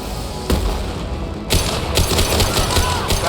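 Rifle gunfire in the sci-fi shooter Mass Effect 2, with loud rapid shots in sharp bursts and a heavier blast about midway, surrounded by noisy battle ambience and echoing impacts.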